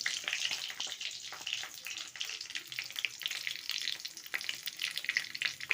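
Bay leaves and fennel seeds crackle and sizzle in hot oil, a steady close frying hiss with scattered pops and light stirring throughout, no voices.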